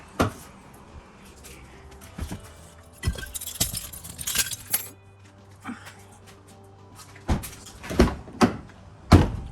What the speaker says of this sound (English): Oh, just hit my car door.